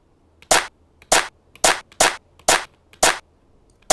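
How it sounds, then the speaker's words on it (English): A drum machine clap sample, triggered by a key press in a freeCodeCamp coding project, fires seven times at an even half-second pace, each a sharp, bright, loud burst standing alone against near silence. "S plays a clap."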